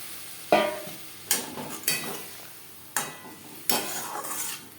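Potatoes fry with spices in a pan for a Bengali rui fish curry, stirred with a few sharp scrapes and clatters about a second apart over a steady soft sizzle, no voices.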